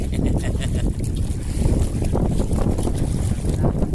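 Continuous rushing wind and water noise buffets the microphone, with sloshing and thumps as a small boat moves over waves.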